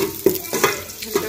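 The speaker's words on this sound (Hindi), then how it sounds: "प्याज में हल्का फ्राई करेंगे" Onions fry lightly in a pan on a home stove, a soft sizzle running under repeated scraping strokes of a spoon stirring them, close and steady.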